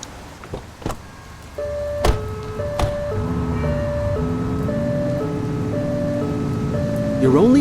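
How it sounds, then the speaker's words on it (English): A video game police car's two-tone electronic siren alternates steadily over a low engine hum, preceded by a few sharp clicks and thumps, with a brief squeal at the end. "You're only meant to use the siren in emergencies."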